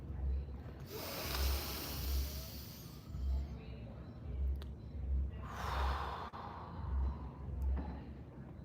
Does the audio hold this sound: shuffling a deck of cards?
no